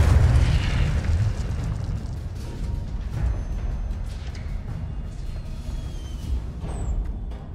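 A fire spell cast in Hogwarts Legacy gives a loud, rumbling burst of flame that roars at the start and then carries on as a steady, crackling whoosh for several seconds, with no voices.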